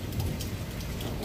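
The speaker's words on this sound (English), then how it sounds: "I just thought we'd enjoy the lightning storm together, because" Steady rain falls during a night-time lightning storm, a dense, even hiss with low rumbling underneath, heard alone without talk.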